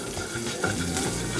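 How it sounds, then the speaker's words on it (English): Shallots sizzle and crackle steadily in hot vegetable oil in a pan, a close, continuous frying hiss with small pops. "Just get that nice little sizzle on the shallot, caramelize the shallots."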